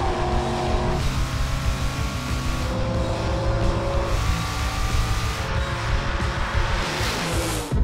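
A 1970 Chevelle and a 2003 S10 race in a drag event, engines roaring loud and close with rising revs and gear changes.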